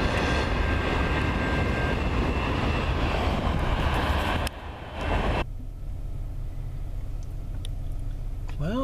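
CN freight train M357, led by a Dash 9 locomotive, rumbles loudly past at Ladysmith at night, a steady heavy roar that drops off abruptly midway, followed by quieter rolling and a rising tone at the end.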